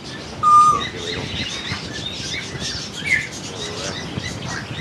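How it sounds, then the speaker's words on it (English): Live birds at a busy Kuala Lumpur street market give scattered chirps and whistles, with one clear whistled note early on, mixed into a steady wash of crowd and street noise. "There's a lot of live birds flying around here too"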